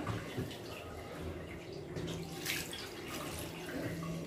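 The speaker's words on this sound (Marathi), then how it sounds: "म्हणून मी असं त्याच्यावर आधी थंड पाणी टाकून घेत आहे." Cold water splashes and pours steadily over boiled noodles close by, a continuous running rush with small bursts of spatter.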